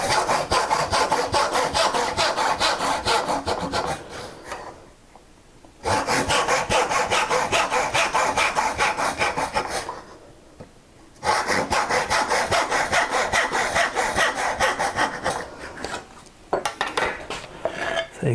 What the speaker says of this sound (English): So there we go. So the guide works very well with the Japanese saw